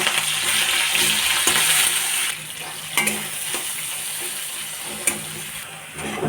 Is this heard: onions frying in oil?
yes